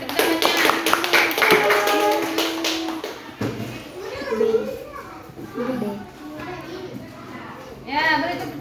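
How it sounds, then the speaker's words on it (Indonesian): A children's class claps together in a quick burst of rhythmic applause, followed by a teacher talking and children's voices. "Ya, beri tepuk tangannya, benar."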